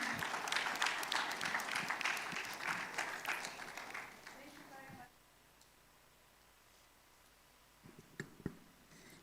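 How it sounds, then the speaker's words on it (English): Audience applause at a money summit as the Deputy Governor of the Bank of Ghana is welcomed: a crowd claps for about four seconds, fades out into near quiet, then a few scattered clicks and bumps follow. "Please, a round of applause for her."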